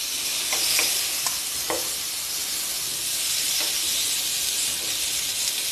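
Pieces of meat laid gently into a hot pan to sear, producing a steady hissing sizzle throughout with a few soft taps of placement early on.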